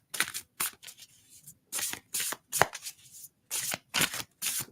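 Tarot cards shuffled in repeated short riffling bursts separated by brief pauses, close and moderately loud with no talking.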